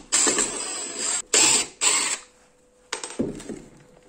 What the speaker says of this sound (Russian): Берем вот этот материальчик и откручиваем.